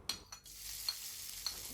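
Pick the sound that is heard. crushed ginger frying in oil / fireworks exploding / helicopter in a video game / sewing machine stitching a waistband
crushed ginger frying in oil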